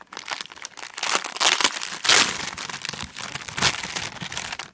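Crinkly plastic bag rustling and crunching steadily as papers and envelopes are pulled out of it, close and fairly loud with a few sharper crackles.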